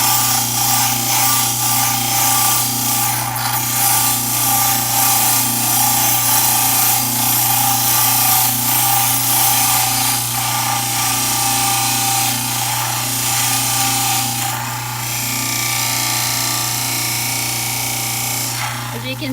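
Power trimming tool cuts excess plastic from the edges of dental bleach trays with a steady, continuous whirring grind and a constant low hum throughout, fairly loud and close.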